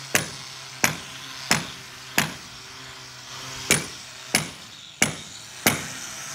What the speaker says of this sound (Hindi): लूज कंटेंट्स तोड़े जा रहे हैं।